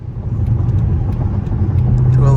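A Chrysler 300C SRT8 on new Firestone Firehawk Indy 500 tires drives onto a highway, its steady low engine rumble and road noise filling the cabin as it pulls up to speed, with a brief rising tone near the end.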